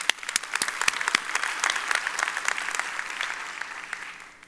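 An audience at the Evolve Houston relaunch event claps with sharp, individual hand claps that thin out and fade toward the end, heard at moderate distance with no talking.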